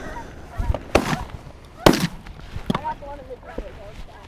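Wild geese honking during a goose hunt in Alberta, several loud, close calls over a steady outdoor background, with a couple of sharp honks standing out among fainter ones.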